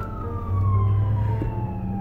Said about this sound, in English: it's an ambulance trying to get by here.